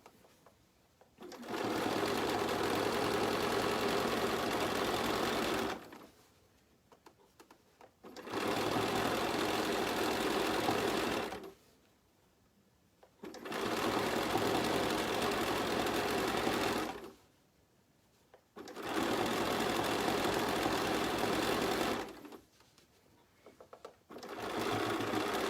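A sewing machine stitches fabric in four long, steady runs of about four to five seconds each, separated by short quiet pauses, loud and close.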